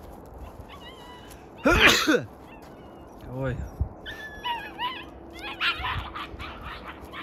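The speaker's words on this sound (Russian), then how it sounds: "Вон, слышите, как скулит." Young wolf cubs whimpering and yelping in a park, a loud close squealing burst followed by softer whines and yips, while a person speaks briefly nearby.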